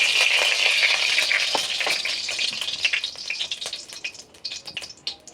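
Oil measured into a hot kadai, hissing and sizzling loudly up close, with the crackle thinning into scattered pops and fading over several seconds.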